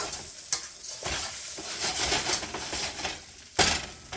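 Rice is stir-fried in a hot pan, a steady sizzle under scraping strokes of a spatula, with occasional sharper knocks against the pan, close and continuous.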